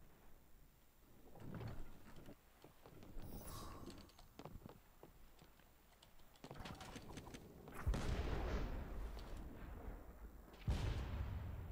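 Heavy ship cannon blasts boom in irregular bursts in the video game Blazing Sails, with the loudest shots near the end, over a busy background of rumbling and clatter.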